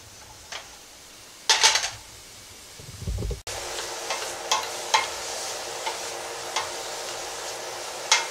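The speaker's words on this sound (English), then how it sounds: "You're going to saute the veggies until they're soft" Thinly sliced vegetables for Oregon clam chowder sauté in a pot. After a few quiet knocks and a low rumble, a steady sizzle starts, marked by regular light clicks of stirring.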